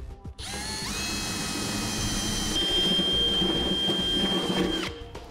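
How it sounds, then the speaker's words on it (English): A step drill bit bores through the bed of a Ram pickup truck, enlarging holes for a Curt custom fifth wheel installation kit. A steady, loud, high whine runs for about four seconds and then cuts off. "use our step bit process again to drill them out to our final size"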